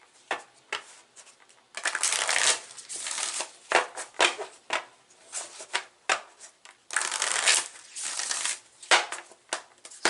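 Moonology Oracle cards shuffled by hand during a tarot-style reading, a crisp riffling and flicking in repeated bursts with short pauses between, fairly close and moderately loud, with no one talking.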